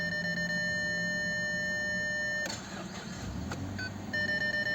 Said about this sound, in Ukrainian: Включаю запалення, пікають парктроніки